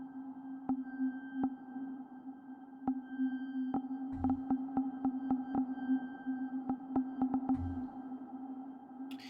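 A steady synth drone hums while sharp clicks and ticks land irregularly over it, with two brief low thumps in between, from the Pigments software synthesizer being triggered.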